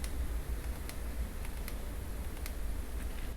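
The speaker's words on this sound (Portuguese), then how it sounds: "Eu vou do F2 até o F8, vocês conseguem ouvir que ela tem um clique mais alto nos stops cheios." Aperture ring on a Fujifilm XF 35mm f/2 R WR lens turned from f/2 to f/8, about five small, sharp clicks spaced irregularly, faint and close over a steady background hiss, with no talking.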